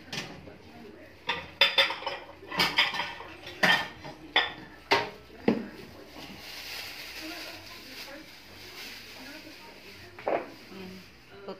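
Plates and dishes clatter and clink as they are handled in a home kitchen while cooking shrimp, with a run of close knocks and rattles over several seconds, then sparser clinks, under people talking.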